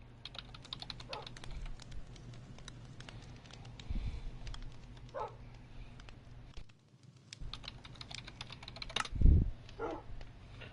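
Keys clatter on a computer keyboard connected to a PS4 for Minecraft Bedrock, in quick irregular bursts of close tapping with a few louder thumps and brief pauses.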